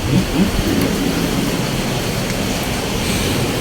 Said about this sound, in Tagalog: biglang binuhos niya yung malakas na ulan